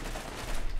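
A short, dense burst of gunfire in the video game Borderlands GOTY Enhanced, rapid shots crackling close together over a steady rumble.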